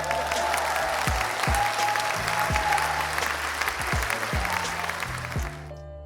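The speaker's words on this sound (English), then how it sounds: "Round of applause to German authorities for making this" A crowd applauds in a dense, steady wash of clapping with some low thumps underneath, holding for several seconds before cutting off abruptly.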